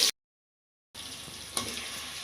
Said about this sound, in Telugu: ఇప్పుడు ఆనియన్స్ అంతా కూడా ఆయిల్లో కలిసేలాగా చక్కగా కలుపుకొని వదిలేద్దాం